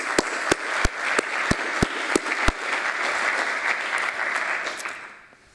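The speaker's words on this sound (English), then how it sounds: "So let's give him a round of applause." An audience applauds a speaker at an event about a climate change initiative. Sharp individual claps open the burst, then merge into steady, full applause that fades out toward the end.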